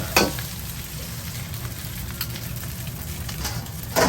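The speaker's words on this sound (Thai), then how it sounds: "เส้นใหญ่ผัดซีอิ๊ว" Wide rice noodles with soy sauce (pad see ew) are stir-fried in a pan in a Thai made-to-order kitchen, with a loud, steady sizzle and sharper scraping strokes at the start and end.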